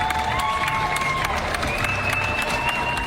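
A city-block crowd cheers and applauds a public marriage proposal, with dense clapping and whoops in a continuous roar and a few high shouts rising above it.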